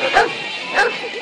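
A dog at an indoor dog show gives two short yelping barks about half a second apart, close and fairly loud over a murmur of background voices.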